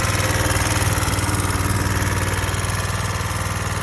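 A small Coleman minibike engine with front and rear suspension idles close by with a steady, fast, buzzing putter and even pulsing rhythm, with no talk over it.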